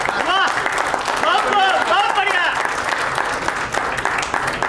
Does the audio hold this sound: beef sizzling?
no